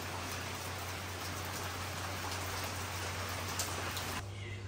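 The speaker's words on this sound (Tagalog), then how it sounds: "It's raining in Ubod." Steady rain in Ubud, Bali, falling as an even, dense hiss without pause, close and constant across the whole stretch.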